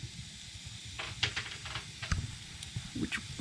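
Burning maple firewood hissing faintly as moisture boils out, with soft irregular crackles and pops over a low rumble, heard up close and fairly quiet.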